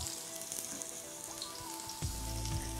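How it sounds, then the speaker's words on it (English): Red onions sautéing in oil in a pan, a soft, even sizzle that runs steadily close by, with a faint tonal hum in the background. "So now we're gonna saute our vegetables."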